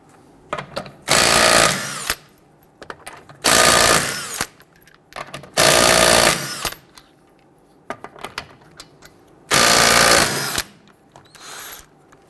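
Wheel lug nuts on a Toyota RAV4 are loosened and removed with an impact wrench, four loud rattling bursts of about a second each, separated by quieter clinks and handling noises.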